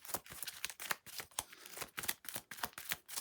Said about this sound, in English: Let's shuffle the deck like so